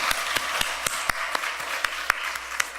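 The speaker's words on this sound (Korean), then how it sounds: "우리 하나님께 박수로 영광 올려드리겠습니다" A church congregation at a Sunday worship service claps in slow, regular unison, one sharp beat about every quarter second, moderately loud over a soft room hum.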